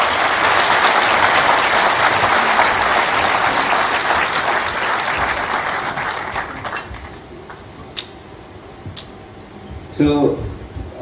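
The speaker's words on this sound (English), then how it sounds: "may I request a big round of applause." An audience at a ministerial event applauds loudly and steadily, the dense clapping thinning out and fading over several seconds into scattered claps and room noise, with a brief burst of sound near the end.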